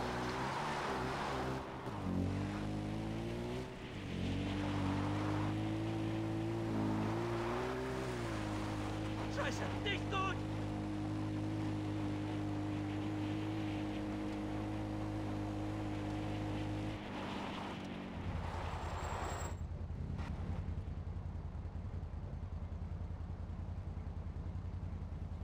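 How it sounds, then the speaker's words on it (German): A smuggler's motorboat approaches in the video game Far Cry 4, a steady droning engine hum with shifting pitch over water and wave sounds, continuous and fairly prominent for most of the stretch before easing off. "Er kommt also mit dem Boot, wir hören schon."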